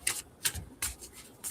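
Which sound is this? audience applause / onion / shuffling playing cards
shuffling playing cards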